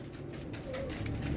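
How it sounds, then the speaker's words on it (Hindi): A Heera Laal pigeon gives a soft, low cooing close by, brief and faint over a muffled background. "ये कबूतर आपको दिखा रहा हूँ दोस्तों मैं।"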